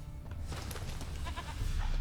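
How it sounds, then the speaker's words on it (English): A goat bleating in the video game The Witcher 3, short wavering bleats heard over a steady low ambient rumble, moderately faint and not far off. "Another goat."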